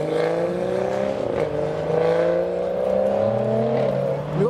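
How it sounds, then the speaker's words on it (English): A convoy of modified BMW cars at a car show rolls past, including a satin gold M140, with steady overlapping engine drone and rising and falling revs as the cars pass one after another close by. "We've now got a little convoy rolling out of BMWs, including the satin gold M140."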